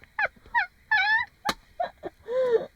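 Birds call repeatedly at a van park-up spot in Denmark, a series of loud, nasal honking cries in short bursts with a few sharp notes between them. They sound close and clear, with no talk over them.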